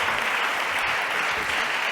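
An audience at a French media awards ceremony applauds, with dense, steady clapping throughout at full volume and no pause.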